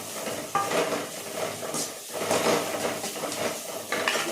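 Boiled potato being mixed with salt in a pot for bonda filling, a steady scraping and stirring with utensil clatter and a faint background sizzle, close and continuous.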